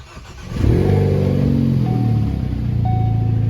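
A Ford Focus ST starts and revs up, then settles into a smooth, steady running note after a boost gauge install, close and fairly loud with a faint whine on top.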